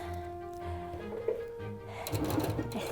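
A sewing machine stitches quilt pieces together in a beginners' quilting class, running in a near, steady whir that picks up into quick rhythmic clicks toward the end.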